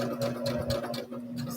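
Sewing machine stitching a short backstitch over the bust seam of a plus-size pajama tee-shirt, a quick run of rhythmic mechanical stitching pulses, close and fairly soft.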